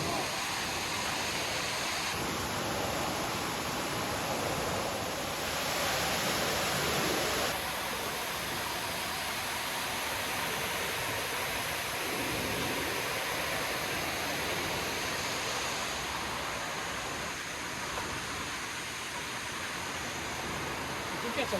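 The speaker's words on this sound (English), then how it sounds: "See those waterfalls?" Waterfalls in a river gorge make a steady broadband rush, constant and fairly distant, while hikers talk over it now and then.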